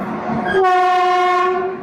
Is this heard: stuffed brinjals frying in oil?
no